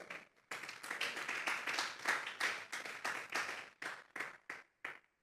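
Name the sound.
church congregation applause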